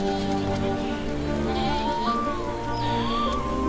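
Sheep bleat outside a window where a flock is being grazed, a wavering bleat rising over a steady hiss of rain-like background noise, fairly close, with no talk.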